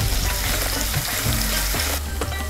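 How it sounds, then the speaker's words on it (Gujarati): Finely chopped tomatoes with ginger-chili paste fry over a low gas flame, a dense continuous sizzle up close with occasional stirring scrapes breaking through. "ટમેટાને બારીક સમારીને એડ કરી દેશું અને ત્યારબાદ ગેસની લો ફ્લેમ ઉપર 1 મિનિટ માટે આપણે તેને શેકી લેશું"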